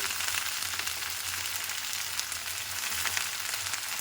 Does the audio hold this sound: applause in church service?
no